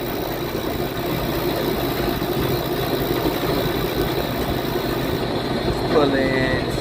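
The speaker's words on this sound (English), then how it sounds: "It's a 3-phase compressor, y'all." A three-phase AC compressor runs steadily as a constant mechanical drone and hum at a job on an HVAC service call, loud and unbroken throughout, with a brief rising whine near the end.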